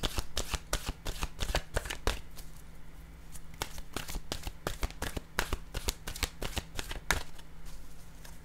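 A deck of oracle cards is shuffled by hand in a quick, uneven run of crisp riffling slaps, close and clear, pausing briefly midway before picking up again, with no talking.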